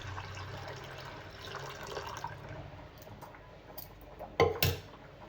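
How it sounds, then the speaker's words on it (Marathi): Water pours and trickles steadily into a pani puri water mixture, then a few louder splashes and drips near the end; no talking. "इथे मी आणखी पाणी घालून घेणार आहे"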